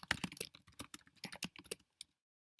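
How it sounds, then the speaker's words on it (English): Rapid typing on a computer keyboard, close and clear, a quick uneven run of key clicks lasting about two seconds before falling silent. "type this text"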